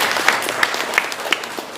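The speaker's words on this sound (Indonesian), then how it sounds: "Tepuk tangan untuk dia." An audience at a seminar gives a short burst of applause, dense clapping with a few sharper claps standing out.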